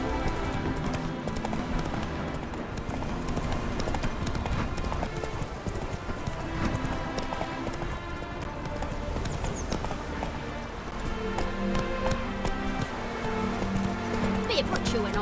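The horse Roach gallops through The Witcher 3, a steady rhythmic clip-clop of hooves running continuously at close range beneath music and game ambience, with people talking over it.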